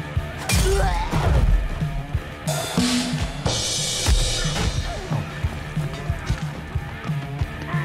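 Glass smashing and crashing amid brawling in the VR combat game Paint the Town Red, with several sharp breaking impacts, thuds and scuffles, and a player talking over the chaos.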